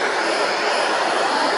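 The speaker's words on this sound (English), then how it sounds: "we're getting jet blasted by KC-135 exhaust" Exhaust blast from a KC-135 military jet aircraft's engines washes over the listener as a loud, steady, broadband roar with no voices.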